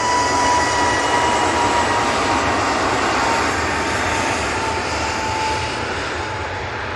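An Airbus A321neo jet on its takeoff roll at Manchester Airport roars loud and steady, a broad engine rush with a faint whine that eases slightly toward the end.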